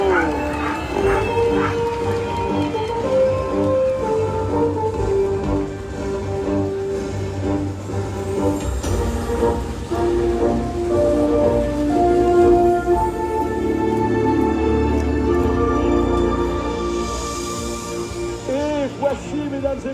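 At the start of a sled dog race, a team of sled dogs howls, yips and barks in a continuous noisy chorus. The sound is loud and close, with crowd noise and an announcer's voice mixed in.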